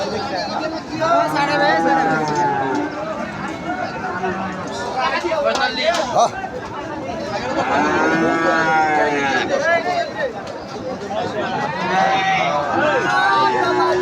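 Friesian cross and Australian bulls mooing repeatedly at a busy rural livestock market, with long, loud bellows from several animals close by over a steady hubbub of crowd chatter and people talking.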